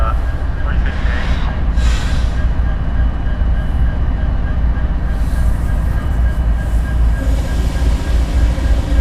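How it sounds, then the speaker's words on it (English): A freight train idles trackside with a steady, loud rumble of diesel locomotives running throughout as the three lead units are cut off, with faint metallic squeals and hiss and some distant radio chatter or voices in the background. "as they cut the lead locomotives off"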